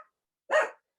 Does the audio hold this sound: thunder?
no